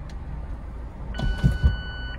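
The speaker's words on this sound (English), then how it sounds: "when you hear that beep and the windows go back, it's positioned safe and locked in" A short electronic beep tone rings out over a low car hum as the retractable hard top of a 2019 Mazda MX-5 Miata RF locks into place, followed by a couple of soft mechanical thunks.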